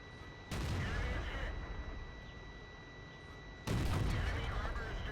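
In World of Tanks, heavy Centurion tank cannon shots boom twice, loud and close, each a sharp blast trailing into a rumbling decay, under a steady hum of game noise.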